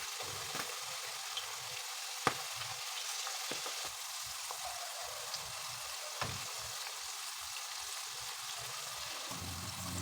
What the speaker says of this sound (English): Fry them for about 3 to 5 minutes, stirring gently so they don't stick together.